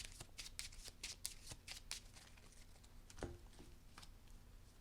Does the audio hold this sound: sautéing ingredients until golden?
no